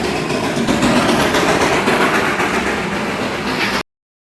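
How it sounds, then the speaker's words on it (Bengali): A Darjeeling toy train runs along its rails, giving a steady, loud, broadband rumble with a faint rhythmic clatter that holds evenly for almost four seconds before cutting off abruptly. "যাওয়ার পথে আমি একটি টয় ট্রেন দেখলাম, তাই তোমাদের জন্য একটু ভিডিও করে নিলাম।"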